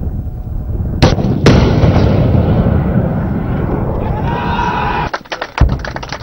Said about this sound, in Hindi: बहरिया के डिफेंस यूनिट्स ने जमीन से फजा में मार करने वाले मिसाइल्स की फायरिंग का कामयाब मुजाहरा किया